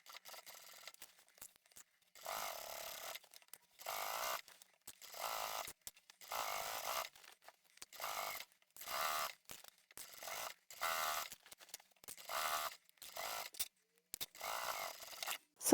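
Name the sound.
sewing machine top stitching a tote bag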